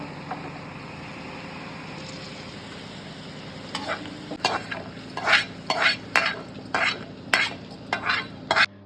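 Amaranth greens are churned with a wooden masher, a soft steady background hum giving way to a rhythmic series of sharp knocking and scraping strokes in the second half, close up.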